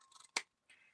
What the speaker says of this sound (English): I'm just trimming the side of this little envelope off so that I can attach it